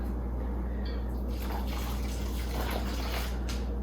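Cold water from a kettle is poured into potting soil for growing coleus from seed, a soft trickling and splashing, faint and close, with no one talking.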